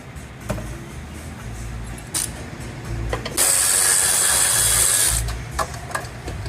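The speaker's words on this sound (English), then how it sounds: "So removing the transmission bolts." Transmission bolts being removed from a 2017 Audi Q7, with a ratchet clicking in short bursts and then a sustained whirring run of a power ratchet or impact tool, close and fairly loud in a workshop.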